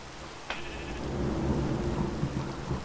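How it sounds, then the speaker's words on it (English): Rain falls outside with thunder, a steady hiss of rainfall under a low rolling rumble, fairly close and continuous, with no voices. "It's raining outside also in real life, which is really good."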